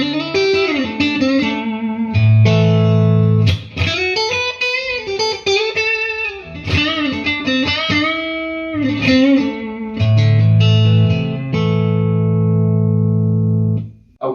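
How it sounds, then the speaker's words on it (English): A Witkowski ST3 electric guitar on its neck pickup plays through an amp with reverb, ringing chords and melodic lines rising and falling, loud and close, with sustained notes fading out at the end. "let's plug it into an amp and see what it sounds like."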